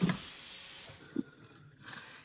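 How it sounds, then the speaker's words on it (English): Water runs steadily from the hose faucet into a stainless steel farmhouse sink, a soft continuous hiss with a couple of faint splashes and clunks, heard close and alone. "you can get that little hose action going and change the water flow to rinse better"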